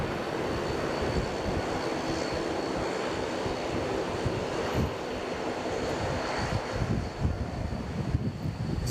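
A regional airliner, likely a Regional Express Saab turboprop, arriving at Brisbane, with a steady distant engine drone blended with wind buffeting on the microphone throughout.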